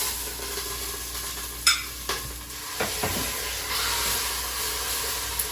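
Wild turkey pieces sear in oil in a pan, a steady broadband sizzle with a few sharp clinks and scrapes of a utensil against the pan partway through.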